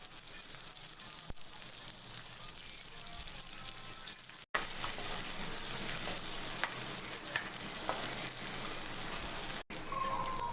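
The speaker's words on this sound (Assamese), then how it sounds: "এতিয়া মই ইয়াতে কাটি থোৱা পিঁয়াজটো আৰু জলকীয়া দি অকণমান সময় ভাজি ল'ম" Chopped onion and green chillies fry in a pan with a continuous sizzle and scraping stirs. Brief sharp clicks interrupt the sizzle, and it grows louder after a short break partway through.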